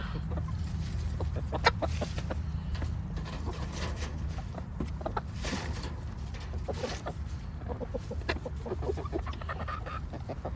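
Farm chickens cluck and chatter in repeated short bursts as they are let out of their enclosure, several birds close by over a low steady background rumble, with no talking.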